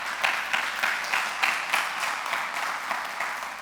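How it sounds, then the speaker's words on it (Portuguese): A church congregation claps together during a Portuguese-language service, with a loose rhythmic pattern of fairly loud, repeated bursts of applause running throughout. "dá um aplauso bem bonito."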